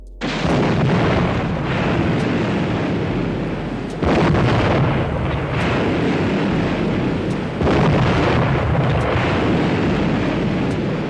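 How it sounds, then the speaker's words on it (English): Loud, deep booming depth charge explosions at sea rolling one after another, three heavy roaring bursts with rumbling that sustains between them. "The explosions that shook the sea."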